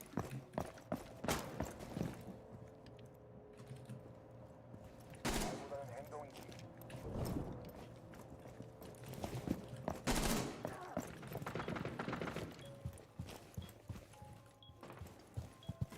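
Gunfire in a Rainbow Six Siege match, with bursts of shots and rapid impacts scattered among footsteps and in-game noise, while players talk over voice chat.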